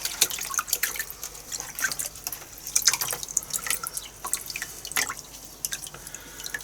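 Dyed deer hair for fly tying being rinsed in water, with irregular splashes and drips falling close by in quick, uneven bursts over a quiet background.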